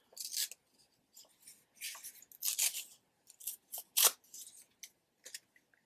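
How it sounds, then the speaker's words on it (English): Paper being torn in short, crisp bursts for a junk journal tag, several quick ripping strokes with pauses between, close and fairly quiet. "I'm going to just tear some of this"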